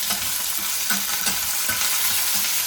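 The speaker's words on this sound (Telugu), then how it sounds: "చూసారు కదా ఎలా ఫ్రై అవుతున్నాయో." Peanuts and curry leaves fry in a pan, crackling and sizzling steadily up close, with soft knocks and scrapes from stirring throughout.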